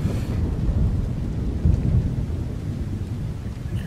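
Steady video-game rain pours with low, rumbling thunder rolling underneath, a continuous heavy wash of storm sound with no voices.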